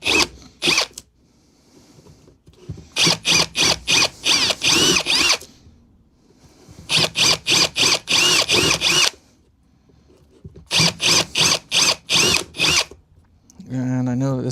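A power drill bores holes for a guitar amplifier build, running in three bursts of rapid, stuttering pulses at close range, with quiet pauses between them and a brief voice at the very end.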